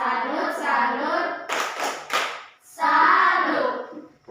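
A school class claps a rhythmic 'tepuk salut' salute for a pupil: short bursts of children's clapping in patterned groups, broken by chanting voices between the claps.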